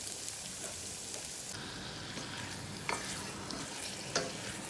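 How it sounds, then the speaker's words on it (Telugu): Onions frying in a pan until golden for a Kerala-style chicken stew, a steady close sizzle and crackle with occasional sharper pops, no voices. "దోరగా వేగిన తర్వాత ఎర్రగడ్డలు."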